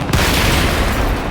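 A heavy tank rams an enemy tank in World of Tanks, a WZ-111 1-4 slamming in with a deep, loud boom that rumbles on as a sustained low roar for over a second.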